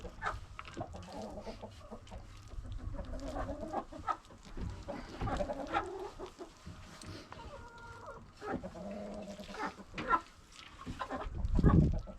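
Backyard chickens cluck and murmur close by in a busy, uneven chorus, with a few sharper calls and soft rustling around them.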